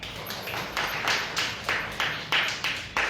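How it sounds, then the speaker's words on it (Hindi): Hand claps from a church congregation at a Hindi-language Christian sermon, a steady rhythmic series of about a dozen sharp claps, moderately near, with faint voices in the background. "प्रभु के लिए ताली बजाना साहब।"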